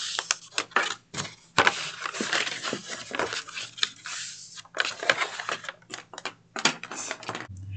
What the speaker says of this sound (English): So now I'm going to take this and fold on these score marks.